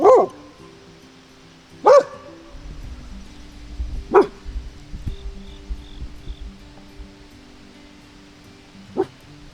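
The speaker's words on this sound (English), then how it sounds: "If even a leaf moves, they start barking." Dogs in a backyard garden let out several sharp, spaced barks, close by, with quieter rustling and faint sounds between them.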